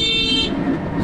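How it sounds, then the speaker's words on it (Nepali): A safari vehicle's horn blares in one sustained, loud honk that is close by, cutting off abruptly partway through, with traffic noise continuing underneath. "हर्न के साह्रो बजाएको यार"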